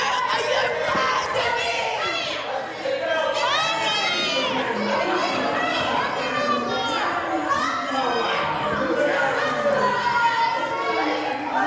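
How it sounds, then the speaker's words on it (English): A crowd at a wrestling show, many of them children, shouts and cheers constantly, with excited high-pitched yells and chatter forming a loud, unbroken wall of voices. "getting the crowd into it"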